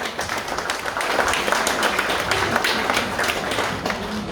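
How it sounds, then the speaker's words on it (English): A crowd at a fundraising dinner for Tonga tsunami and Queensland flood relief applauds after a performance, a steady burst of clapping from many hands, fairly close and sustained. "Let's give them a big round of applause."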